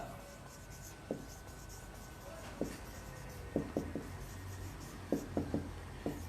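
Marker or chalk strokes on a classroom board during an accounting lesson, a series of short scratchy taps and squeaks in uneven bursts, close and fairly quiet against faint room tone.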